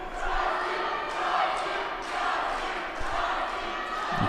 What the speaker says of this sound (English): Ukrainians beginning to cheer their man on.